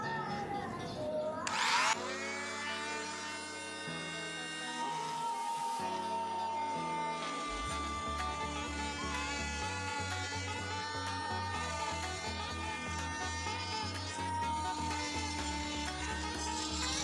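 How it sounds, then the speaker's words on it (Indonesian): Oscillating multitool fitted with a multi-cutter blade cutting through PVC pipe, a close, continuous high-pitched buzzing whine with shifting pitch as the blade bites, running steadily throughout. "Sekarang kita akan coba potong pipa PVC. Ini saya menggunakan blade multi cutternya ya."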